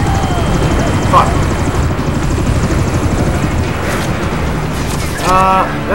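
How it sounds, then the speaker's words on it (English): Helicopter in the video game Army of Two: The 40th Day, a loud, steady rotor thrum throughout with gunfire-like bursts and a chirping game effect near the end. "That chopper's bad, right?"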